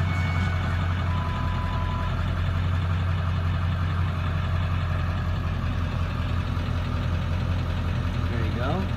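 A 1999 Ford F250 diesel with manual transmission idling with a steady, low clattering rumble and constant hum, close and even throughout, while someone speaks over it.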